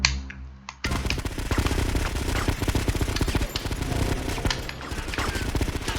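Dense, sustained gunfire from the video game GTA Vice City, rapid overlapping shots in a loud fusillade after a brief quieter lead-in, with machine-gun bursts throughout.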